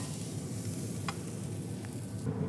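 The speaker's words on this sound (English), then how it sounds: "that nice crust frying up in that tallow" Potato tots fry in beef tallow in a pan, giving a steady, soft sizzle and crackle throughout, with no one talking.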